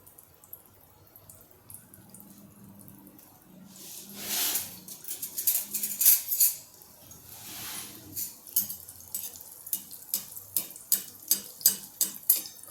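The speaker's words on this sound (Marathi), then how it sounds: "आता ही मी करंजी तेल तापलं आहे त्यामध्ये तळायला टाकते" Veg karanji slid into hot oil for deep frying, a soft crackle building into a burst of bubbling and then a run of rhythmic popping and spitting, close by with no talk.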